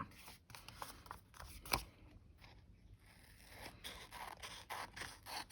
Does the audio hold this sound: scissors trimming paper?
yes